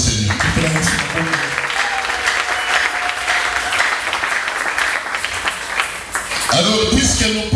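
A church congregation bursts into loud, sustained applause that stays dense and continuous, with cheering voices mixed into the clapping.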